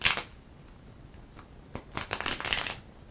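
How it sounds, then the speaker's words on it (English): A deck of tarot cards is shuffled by hand: a quick riffle at the start, a pause, then a longer crisp flurry of card flicks, close up and alone. "One more shuffle."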